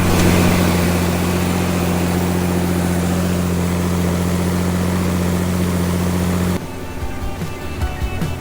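A tractor engine labours hard while climbing very steep ground on a farm during rapeseed harvest, a loud steady low drone with strong tonal hum, continuous for several seconds before cutting to a quieter, rougher stretch.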